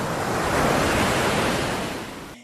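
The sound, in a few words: ocean waves crashing on the coast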